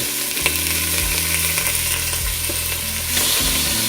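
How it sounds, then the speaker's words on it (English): Pieces of skinless chicken browning in a hot pan for a soy glazed chicken and broccoli dish, a steady, loud broadband sizzle that runs throughout with slight swells and no talking. "let it pick up a little browning"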